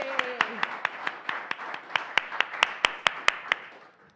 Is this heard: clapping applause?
yes